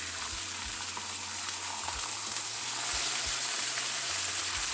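Turkey sausage and turkey bacon fry in avocado oil on a griddle, giving a steady, close sizzle and crackle with faint low background rumble.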